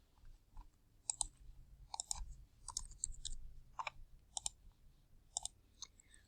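Calculator keys pressed one after another in a quiet room, a series of faint, crisp plastic clicks in short irregular bursts with no talking.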